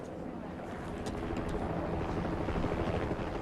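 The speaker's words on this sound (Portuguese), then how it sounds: "Tem um helicóptero sobrevoando." A helicopter flies overhead, a steady loud rotor roar with rumbling wind-like noise that stays constant across the moment.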